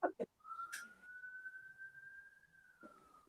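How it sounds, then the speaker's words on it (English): A single steady police siren tone outside a building holds for a few seconds, sustained and fairly distant, with a couple of brief knocks before it and a faint rise of noise as it fades. "there's a police siren going on outside of my accommodation at the moment"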